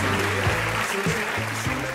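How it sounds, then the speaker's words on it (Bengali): Audience clapping together at an awards ceremony, a steady dense patter filling the hall, with some tonal background music underneath. "সবাই জোরে একটা করতালি দেই।"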